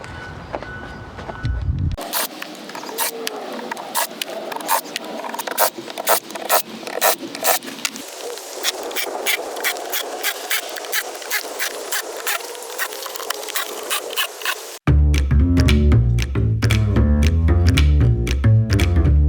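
Screws being backed out of interior trim on a classic Tiger camper van, a long run of rapid ratcheting clicks and squeaky scraping bursts, loud and close, switching to a denser, lower mechanical whir near the end.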